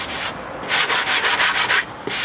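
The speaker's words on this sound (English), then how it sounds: "sand them down" Hand sanding pallet wood boards for seedling trays: loud, close, rhythmic rasping strokes back and forth, about eight quick passes with brief pauses, no talking.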